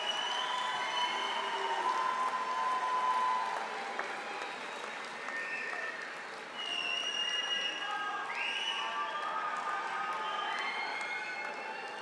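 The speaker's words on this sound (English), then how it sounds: "give them a round of applause" A graduation ceremony audience gives sustained, even applause at moderate distance, a steady wash of clapping with a few cheers and whistles scattered through it and faint voices underneath.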